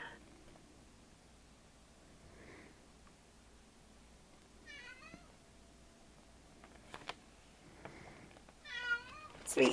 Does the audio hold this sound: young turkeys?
no